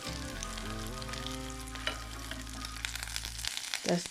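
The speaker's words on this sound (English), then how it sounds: "There I turn my tuna cakes" Tuna cakes frying in a pan over low heat, a quiet even sizzle under a droning tonal background, with a brief clatter near the end as a cake is turned.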